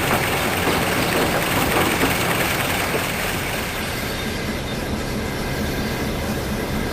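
A diesel shunting engine idling in a rail yard, a loud continuous rumbling drone with a steady mechanical hum that holds even throughout without talk.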